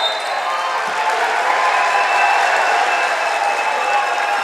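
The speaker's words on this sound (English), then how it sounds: "the crowd's going wild" A large crowd roars and cheers steadily throughout at a high school boys basketball game, a loud, dense wash of voices with no break.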